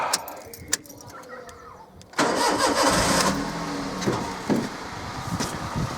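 Toyota Yaris 1.0 VVTI with a freshly fitted exhaust cranks briefly, catches and fires up, then settles into a steady, fairly quiet idle, heard close after a few clicks and taps.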